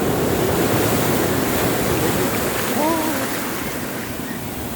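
Sea surf at Colva Beach in Goa roars in a continuous loud, hissing wash, while a faint voice is briefly audible beneath it.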